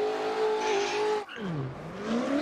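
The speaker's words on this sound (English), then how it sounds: "This car is so aggressively loud" A loud V8 engine of an ESDA M4 race car in a racing video game revs hard and steady, drops sharply for a brief gear change or lift, then climbs again with a rising, roaring pitch and no talking.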